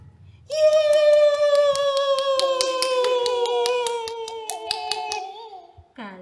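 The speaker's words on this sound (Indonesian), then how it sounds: "mengajak anak bernyanyi sambil bertepuk tangan" A 15-month-old toddler claps hands along with a sung children's melody; light, irregular taps sound under the steady, clear tune.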